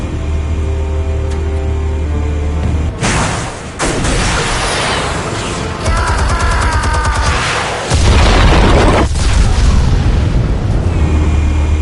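Explosions in the Batman: The Telltale Series video game, loud deep booming blasts with rumbling debris that hit in bursts around three, six and eight seconds over a continuous low game soundtrack.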